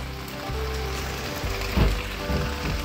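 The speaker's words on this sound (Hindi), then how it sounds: "देखिए बारिश लग पड़ी है, अच्छी खासी बारिश" Fairly heavy rain falls in a village area as a dense, steady hiss with low rumbling beneath, broad and continuous, with no voices.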